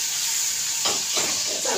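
Stuffed brinjals in hot oil sizzle steadily in a cooking pot, with a bright hiss swelling in bursts as a splash of water hits and the pieces are stirred, close and without talk.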